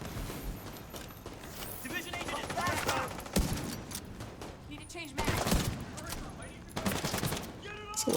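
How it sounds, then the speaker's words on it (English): Video game gunfire: repeated bursts of machine-gun shots and single cracks, loud and close, mixed with game noise and intermittent talk. "So why are you shooting me when I'm just about to take my shot?"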